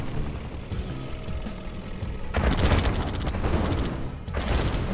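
Unit gunfire in a Red Alert 2 online battle: a dense, rapid burst of shots with booming low thuds rises partway through over ongoing battle noise, loud and busy.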